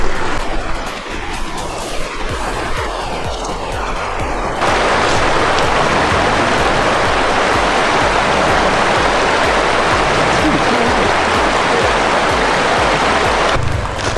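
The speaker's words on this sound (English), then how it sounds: "he's made like a little paddle wheel that he's set up in the water over here" Stream water splashes steadily over a small homemade wooden paddle wheel set up in a creek, a loud continuous rushing wash that swells fuller partway through and runs with no talking.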